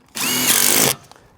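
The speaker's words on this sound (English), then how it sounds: "you take your gun, go there, and you just tighten those clamps on" A power tool gun tightens a clamp on a solar panel in one loud, close burst of whirring, about three quarters of a second long, with a slight rising pitch and rattle before it stops.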